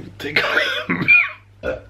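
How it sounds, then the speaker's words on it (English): A single tickly throat-clearing cough followed by a short second cough, close and fairly soft. "tickly cough"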